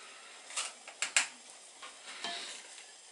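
A spoon scrapes and taps as a fat mixture for bird feeders is spooned into a muffin tray, a few quiet clinks and soft scrapes spread over a few seconds in a still room.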